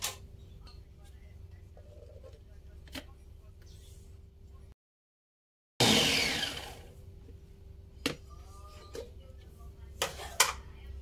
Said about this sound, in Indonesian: haluskan cabai merah, cabai rawit, bawang putih, dan kemiri yang sudah digoreng